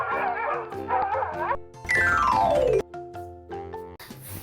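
A dog yips, whimpers and howls in short bursts, with a long sliding whine in the middle, set among cheerful music as part of a children's farm animal sounds lesson.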